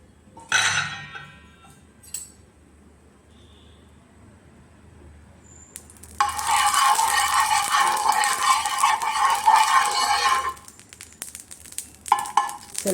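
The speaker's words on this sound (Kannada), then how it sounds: "ಇವಾಗ ದೋಸೆ ಹುಯ್ಯೋಣ." Dosa batter hits a hot, lightly oiled dosa tava: a few light clinks and scrapes come first, then a loud, bright sizzle swells for several seconds before settling, with faint clatter afterward.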